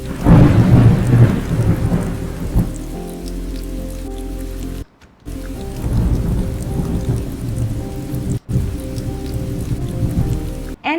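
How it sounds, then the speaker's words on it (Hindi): A thunder sound effect over rain: a loud deep rumble opens, then a steady rain hiss continues with further low rolls, broken by brief silent gaps. "यहाँ पर मैंने बादल गरजने का साउंड इफेक्ट यूज़ किया है, क्योंकि उसी की वजह से पता चलता है कि बारिश हो रही है"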